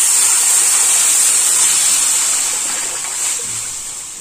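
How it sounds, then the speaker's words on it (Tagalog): Water pours with a steady bright hiss and splash into a pot of sautéed pork while cooking lomi, a close, continuous rush that tapers slightly toward the end. "maglalagay na po tayo ng ating tubig"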